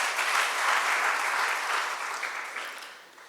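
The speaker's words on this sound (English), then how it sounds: "Kindly give them a round of applause." An audience at a school debate competition breaks into warm applause, a dense wash of clapping that holds steady and then slowly thins and fades toward the end.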